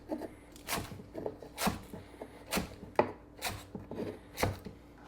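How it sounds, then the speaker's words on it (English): A knife chops vegetables into 2-inch pieces on a cutting board, sounding as a steady series of sharp, close thunks about twice a second, clear and alone with no talk. "And then we'll cut them into about 2-inch pieces."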